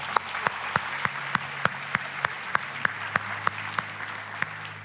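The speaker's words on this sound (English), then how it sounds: "Round of applause for Persia." A church congregation claps during a Christmas Sunday service, a steady rhythmic beat of evenly spaced claps that stands out sharply against a soft background hum, moderately quiet and consistent throughout.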